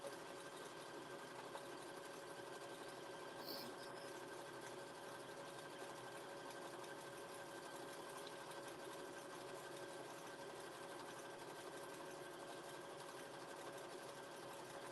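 A sewing machine stitches fabric in a steady, continuous whir that runs unbroken and fairly close for the whole stretch, with a steady hum beneath it and a brief high blip partway through.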